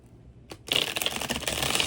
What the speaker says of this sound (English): Oh, that's another good shuffle.